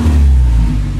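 A Mini Clubman Cooper S with its exhaust valves closed gives a brief, muffled, low engine rumble as it revs, heard close and alone.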